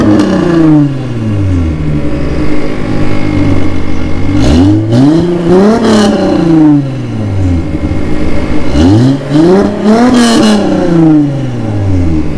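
A white VW GTI Mk3 with a VR6 engine starting up and revving, several loud rising-and-falling rev sweeps up close with a steady idle between them.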